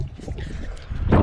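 Wind buffeting a GoPro microphone outdoors, low rumbling gusts that swell into a louder burst at the end, brief and close with no talk.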